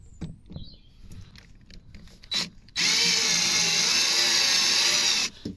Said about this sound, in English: So we've got 4 rivets, one on each corner, just to drill out.